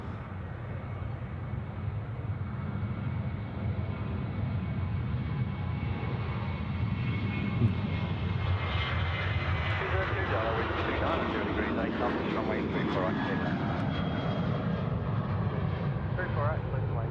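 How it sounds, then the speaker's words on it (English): A Velocity 816 airliner departs Sydney Airport for Melbourne, its engine roar building from a distant rumble into a louder, fuller jet sound as it rolls and climbs, with someone talking over it at times. "next rolling here is a Velocity 816 off to Melbourne. Let's watch its departure"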